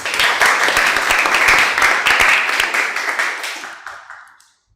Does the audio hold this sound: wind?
no